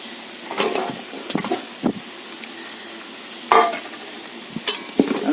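Sliced onions and shallots frying in a pan for a beef fry, a continuous sizzle broken by several clattering stirs and scrapes of a spoon against the pan, close and fairly loud with no talk.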